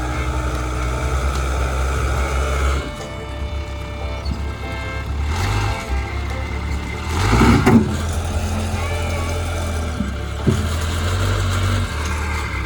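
A backhoe tractor's diesel engine works on a building demolition, rumbling loudly and continuously, with a burst of heavier crunching around the middle and a later knock.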